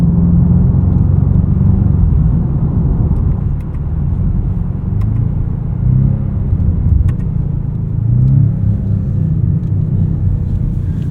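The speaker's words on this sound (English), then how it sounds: "It's just the strangest sound for an engine." A 2025 BMW M5 engine heard from inside the cabin while driving, a deep steady rumble with a low hum and slight swells in load, partly piped-in engine sound, continuous and fairly loud with no talking.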